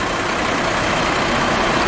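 A bus engine runs at a steady idle on a coach carrying umrah pilgrims, a loud, even broadband rumble that holds without change for two seconds, with no voices.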